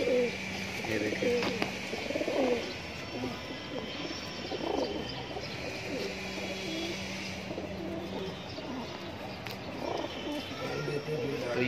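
Border high-flyer pigeons offered for sale in Mumbra, Thane coo and call repeatedly, close and moderately loud, over a busy background with voices talking now and then.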